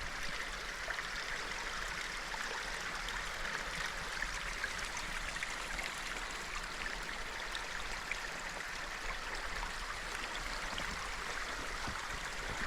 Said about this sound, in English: Water crossing. Not a ton of water flowing right now